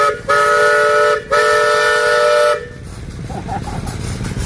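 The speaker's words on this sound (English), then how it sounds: "Got a 1915 Case 50 horsepower steamer." A 1915 Case 50 horsepower steam traction engine at a show lets out a loud, sustained whistle blast, pauses briefly and blows again, then drops to a low chugging rumble.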